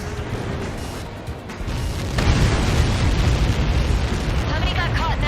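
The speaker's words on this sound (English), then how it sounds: "How many got caught in that explosion?" In the Ace Combat 7 video game, a massive explosion impact erupts into a loud, sustained roaring blast that swells and rumbles for several seconds, with game voices and effects mixed in.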